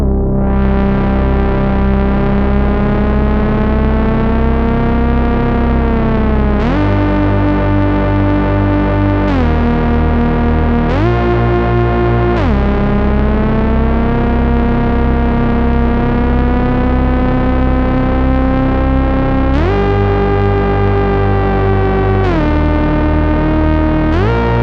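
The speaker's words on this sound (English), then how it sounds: "another option you can do, is to really heavily detune one of the oscillators like this" Moog bass synth with one oscillator heavily detuned, a thick, buzzing, distorted sustained tone that steps between held notes with slight pitch drift, loud and continuous with no voices.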